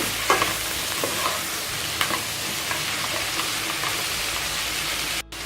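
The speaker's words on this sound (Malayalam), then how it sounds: "എന്നിട്ട് ഇതൊന്ന് വഴറ്റിയെടുക്കണം. ഒരു മീഡിയം ലെവലിൽ തക്കാളിയും സവാളയാണ് ഞാൻ എടുത്തിട്ടുള്ളത്." Chopped tomato and onion sauté over medium heat in a pan, a continuous close sizzle with intermittent stirring scrapes and clicks, no voices.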